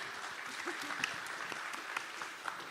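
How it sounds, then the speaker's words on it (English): Audience applause at a panel discussion on women in tech leadership, steady continuous clapping from a room of listeners at moderate level throughout. "Round of applause."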